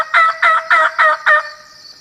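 A turkey gobbles in five rapid, evenly spaced bursts, loud and close, followed by a brief fading tone.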